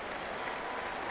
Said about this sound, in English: And the home crowd applauding.